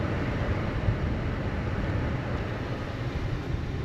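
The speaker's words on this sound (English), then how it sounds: "I don't know if you guys can hear that wind" Air rushes steadily from the vents of a Honda Civic after its blower motor was replaced, a constant broadband whoosh that is moderately loud and alone with no talk.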